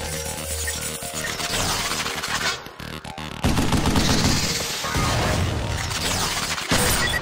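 Weapon fire from the Xbox 360 game Vanquish during training: dense, continuous bursts of shots and crashing mechanical impacts, loud throughout with a brief dip midway before a heavier, sustained barrage resumes.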